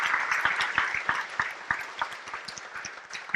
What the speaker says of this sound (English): I'd like to give them all a round of applause for the hard work they did putting this together